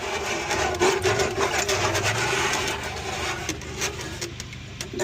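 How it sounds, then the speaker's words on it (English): A handheld brush scrubs the inside of a watering can in rapid, rough strokes, a close, loud rasping sound with no speech. "I'm actually going to go in here and do some scrubbing with my handy brush"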